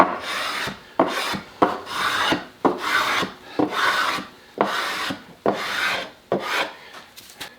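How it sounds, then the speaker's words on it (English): Rhythmic rasping strokes of a hand plane and scraper working the mating surfaces of wooden Telecaster guitar body blanks, about a dozen close, even passes with brief pauses between them and no talking. "we've got both mating surfaces hand planed, hand scraped, and nice and smooth"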